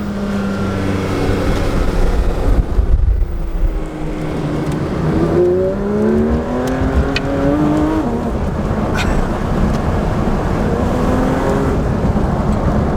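A brand new Porsche GT3 RS drives along a winding road, its engine note climbing and falling through shifts as it pulls hard, loud and close from inside the car, with no talk over it.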